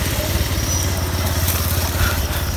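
A motorcycle engine runs close by as the rider pulls up on the way to college, a loud low, pulsing rumble at a steady idle-like pace with no voices over it.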